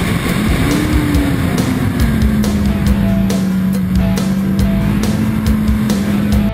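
A Honda Crossrunner motorcycle engine holds a steady, loud drone close by, its pitch rising slightly early on and then settling, with brief ticks and clatter running over the top.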